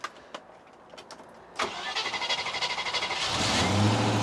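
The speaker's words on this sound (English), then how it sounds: "I think that's probably the 11th or 12th time we've been to the car and started it" A Rover V8 car engine in a workshop: a few quiet clicks, then the starter cranks in a rapid rhythmic churn before the engine catches and settles into a loud, steady idle, with no voices.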